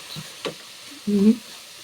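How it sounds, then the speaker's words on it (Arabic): Sugar syrup is poured over hot kunafa, giving a few faint stirring clicks and then a short, close hiss and sizzle as the syrup hits the hot pastry. "هحط لها بس شويه من الشربات كده عشان تتماسك معايا وما تفكش"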